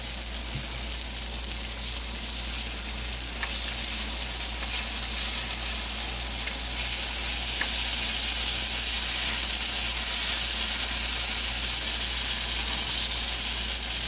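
Shakshuka with eggs cooks steadily in a pan, giving a continuous bright sizzle and frying hiss throughout, even and moderately loud with no talking.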